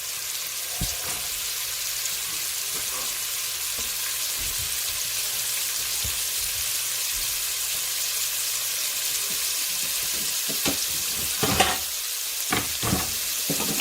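Carrots stir-frying in a pan for shrimp and pineapple fried rice give a steady, even sizzle throughout, with a few utensil scrapes and clicks near the end.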